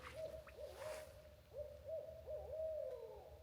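Barred owls hooting in a chorus at night, a series of faint, distant rhythmic hoots with rising and falling inflections, heard over a quiet outdoor background.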